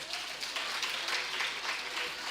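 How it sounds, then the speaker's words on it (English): A school audience at an annual lecture applauds a bright primary-school boy, a steady, fairly soft wash of clapping that carries on evenly throughout with no break. "Lord Jesus, clap that young man"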